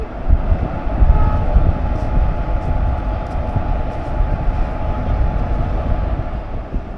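Howrah–Guwahati Express pulls away past the platform at Bardhaman Junction, a loud, steady rumble of wheels and carriages rolling close by for several seconds, with no talk.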